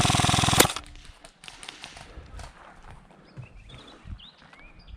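Rapid automatic gunfire in a tactical bomb-defusal shooter game, a loud close burst lasting under a second that cuts off abruptly, followed by quieter footsteps, scattered thuds and faint distant shots.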